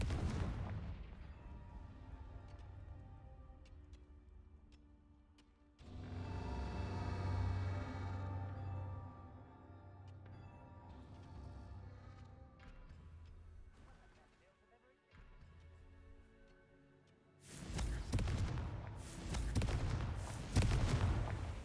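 Booming spell explosions from a video game, heavy blasts going off in separate bursts against a rumbling background. A voice calls out the spell once.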